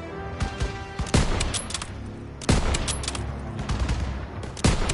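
Gunfire in the Call of Duty World War video game, with dense bursts and volleys of rifle and machine-gun shots that keep coming, loud and close, and a few heavier reports standing out over the barrage.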